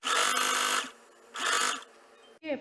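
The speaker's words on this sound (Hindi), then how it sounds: "अब इसको अंदर करके यहाँ पर सिलाई लगाएंगे" A home sewing machine stitches a folded seam on a fabric apron in two quick, steady whirring bursts separated by a short pause, with a third burst just starting at the end.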